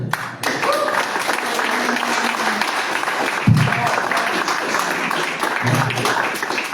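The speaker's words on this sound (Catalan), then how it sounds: "M'encanten els aplaudiments per compromís" Audience applause at a Catalan award event, a dense, steady patter of many hands that fills the room at even loudness, with brief low thumps and a little crowd noise mixed in.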